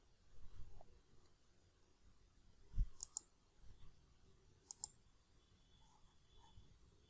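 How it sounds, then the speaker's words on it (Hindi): A computer mouse gives two quick double-clicks a couple of seconds apart, faint and close in a quiet room. "डबल क्लिक करके आप सिलेक्ट कर सकते हो"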